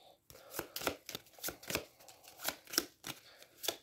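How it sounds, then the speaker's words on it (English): Decks of cards for the Aeons End board game being shuffled, a run of crisp riffling bursts repeating roughly every half second, close and fairly quiet, with no talking. "So we both get to shuffle their decks."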